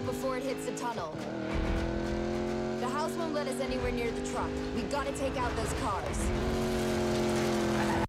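A car drifting in the racing game Need for Speed Payback, with a steady engine roar, shifting revs and tire squeal through the slides, continuous and loud while someone talks over it.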